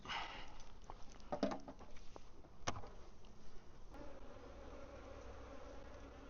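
Honey bees buzz softly and steadily close by at an open hive, with a few sharp taps and rustles over the quiet hum.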